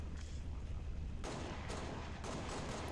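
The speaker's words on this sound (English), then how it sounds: "Let's try the pistol." Pistol shots in Halo Reach, a few sharp single reports spaced about a second apart over a steady low game rumble, fairly faint.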